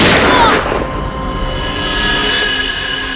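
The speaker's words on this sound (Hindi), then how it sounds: "उसके बाद दूसरी गोली चली" A single loud gunshot cracks at the very start of a crime TV drama scene, then rings out in a long fading echo and low rumble with no further shots.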